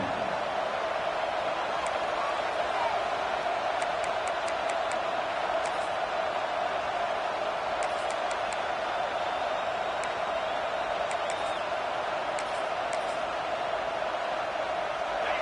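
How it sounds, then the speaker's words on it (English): A college football video game, LSU versus Texas, carries a steady stadium crowd roar at a constant level, with a few faint whistles on top, under a play-by-play commentator's voice. "This crowd ready to make its presence known."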